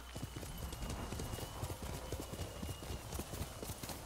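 In Ghost of Tsushima, a horse's hooves clip-clop in a quick, even rhythm, close and steady throughout over a soft wash of ambient game background.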